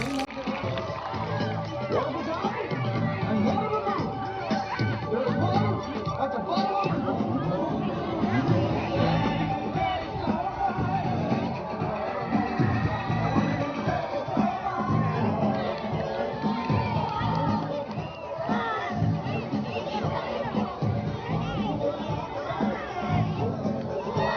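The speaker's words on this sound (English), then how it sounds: "how about a big round of applause for Michael and Rob out here?" Audience at a BMX school stunt show cheers and claps continuously, with children shouting among a dense, lively crowd roar that stays strong throughout.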